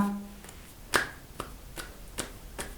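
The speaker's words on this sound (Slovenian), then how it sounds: "Tako kot slišite sedaj zvok mojih rok" Hands clapping: about five sharp, close claps at an even, unhurried pace, each crisp and brief against a quiet room.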